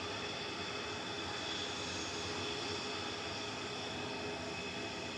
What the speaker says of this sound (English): This is TUI off to Albia, 737-800